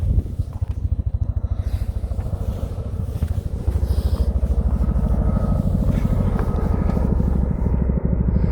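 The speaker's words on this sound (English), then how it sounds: "There is a helicopter over there." A Chinook helicopter's deep, steady rotor thump pulses continuously at a distance over Bamford Edge in the Peak District, a low rhythmic beating that stays fairly even throughout with no voices.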